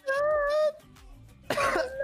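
Two bursts of harsh coughing, close and loud, separated by a short pause.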